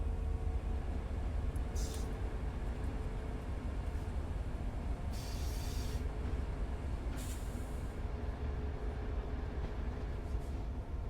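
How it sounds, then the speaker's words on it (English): Diesel-electric F59PH passenger locomotive and its train slowing under brakes in Train Sim World, a steady low rumble and rolling rail noise with a few brief hissing bursts of air brake release, continuous and moderately loud. "So the back of the train's probably still braking at this point."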